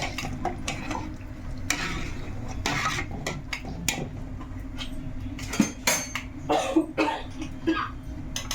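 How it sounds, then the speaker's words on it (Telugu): Rice being stirred into a boiling pot of chicken biryani, with repeated scraping and clinking of a utensil against the pot over a steady bubbling simmer, close and moderately loud. "బియ్యం వేసుకున్న తర్వాత ఒకసారి కలిపేసుకుందాం"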